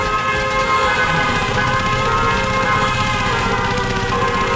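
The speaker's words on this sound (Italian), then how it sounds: "Il treno c'è il clacson." In the shooter game Warfire, a train's horn blares as a loud, sustained tonal honk layered over rumbling rail and vehicle noise, continuous and close throughout.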